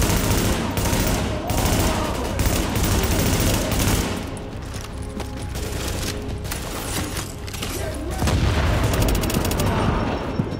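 Sustained gunfire in The Division video game, dense overlapping bursts of automatic fire with booming impacts rolling on for about ten seconds, loud and close, with some game voice mixed underneath.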